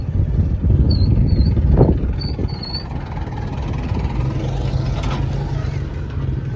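Tractors arriving at a wedding in Pakistan produce a steady, fairly loud low engine rumble that persists throughout, with a few faint high whistling tones early on.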